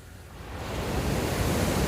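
Surf rolls steadily onto the shore at Port Royal, Kingston, a broad continuous wash that builds slightly in loudness and carries on without a pause, with no voices over it.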